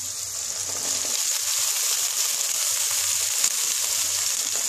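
Sliced potatoes and long-cut spring onions sizzle steadily in hot oil in a pan, a continuous close frying hiss with no talking, for a Bengali amudi fish curry.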